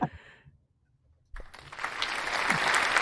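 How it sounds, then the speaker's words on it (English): A hand-clapping sound effect played on a Canadian talk show starts after a short clap and a pause, then swells into a dense, steady burst of applause. "I can bring the hand clapping up"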